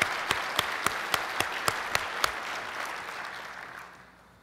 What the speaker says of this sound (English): Let's give one more round of applause to all of our Gold Award winners and all of our Certificate of Merit winners